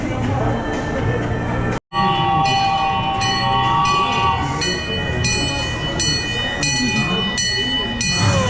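The Shark Tank Train ride at Houston's Downtown Aquarium rolls along with a steady rumble, squealing tones and bell-like chimes, while a voice talks over it.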